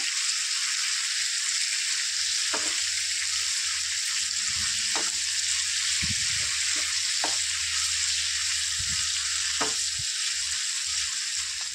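Chicken pieces fry in coconut oil until golden brown, a loud, steady sizzling hiss throughout with occasional spatula scrapes and light knocks against the pan, close up and without talking.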